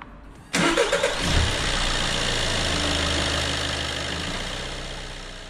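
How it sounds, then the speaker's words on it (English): A Volkswagen Golf Mk7 engine cranks and fires after an oil service, catching abruptly with a loud burst that settles into a steady, close idle. "start the engine"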